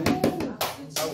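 A few sharp, close hand claps from a lecture audience, four or five irregular strikes within about a second, with some voice mixed in.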